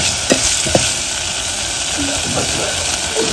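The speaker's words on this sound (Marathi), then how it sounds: "मस्त आता आपला मसाला वाटणाचा भाजतोय" Ground masala spice paste roasting in a pan for goat mutton, a steady sizzle and frying hiss with a few stirring scrapes and clinks, close and continuous, no talk.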